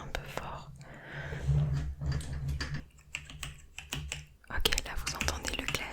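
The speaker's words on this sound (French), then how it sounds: "là vous entendez le clavier en même temps" Rapid clicking keystrokes on a mechanical keyboard in a close-miked ASMR setting, irregular bursts of taps with a soft whispered voice underneath and a louder flurry near the end.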